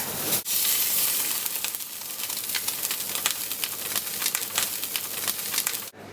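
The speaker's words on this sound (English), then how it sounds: "add the duck skin down to render all that fat" Duck breast sizzles skin-side down in a hot frying pan with a little olive oil, a loud, steady crackle with continuous popping spits of rendering fat.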